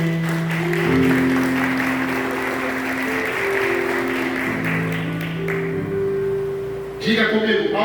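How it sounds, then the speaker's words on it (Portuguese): A church congregation applauds during a celebration service. The clapping is sustained under held keyboard chords and fades out near the end. "Você pode aplaudir o Senhor?"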